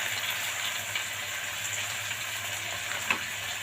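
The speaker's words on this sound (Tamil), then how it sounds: "இந்த ரெசிபிக்கு தேவையான உப்பை சேர்த்து நல்லா வதக்கிக்கலாங்க." Onion and tomato with salt sautéing in a pan, giving a steady close sizzle and hiss throughout with a faint low hum underneath and one small clink near the end.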